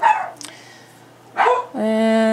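Several dogs bark in a short burst at the start and again midway, close and loud, followed by a sustained whining, tonal yelp.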